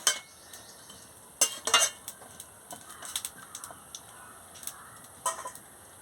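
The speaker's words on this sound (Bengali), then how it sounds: "পরিমাণ হলুদ গুঁড়ো দিয়ে দিচ্ছি দিয়ে ভালো করে নাড়িয়ে নিচ্ছি" Turmeric powder being stirred into a curry in a pan, heard as scattered scrapes and clinks of a utensil against the pan over a faint sizzle, with sharper clusters of knocks at intervals and no talking.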